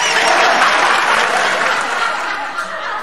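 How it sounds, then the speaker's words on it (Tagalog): An audience bursts into dense, sustained applause, a loud continuous wash of many hands clapping that eases slightly toward the end. "Ba't pumalakpak?"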